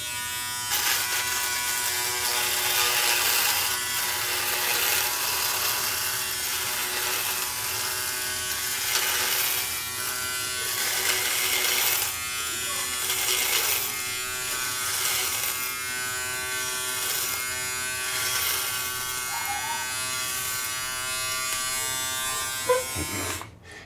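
A Remington Virtually Indestructible 5100 (PF7855) foil shaver buzzes steadily and close up while shaving, a continuous electric hum with slight shifts in pitch as it moves over the skin, with no talking.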